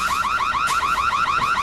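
A car alarm sounds up close and loud, a rapid warbling siren cycling steadily with no voices over it.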